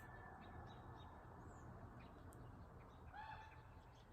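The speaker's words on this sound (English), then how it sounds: "Hear the birds playing" Birds call and chirp faintly in open air at sunrise near a mountain, scattered calls rising over a soft, steady outdoor hush.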